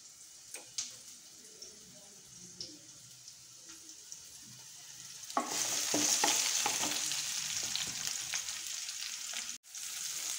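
Buttermilk whisked smooth in a bowl for perugu pachadi, a soft, steady stirring and swishing that grows louder and busier halfway through, with faint kitchen clatter and no talk.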